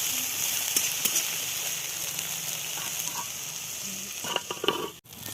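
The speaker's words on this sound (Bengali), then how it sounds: "আর একটু লাল করে ভেজে নেব ওটাকে।" Eggplant slices fry in oil with a little sugar in a pan, giving a continuous soft sizzle with light clinks and stirring sounds near the end.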